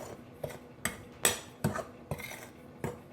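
Dry ingredients for farina (cream of wheat) bread mixed in a bowl, with a utensil clinking and scraping against the side in irregular strokes, each distinct and close.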